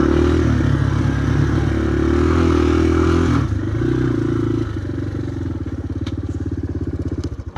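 A 1988 Yamaha Moto 4 ATV engine runs steadily up close, its loud motor chugging with a clattering edge, then easing to a slightly softer, pulsing idle toward the end.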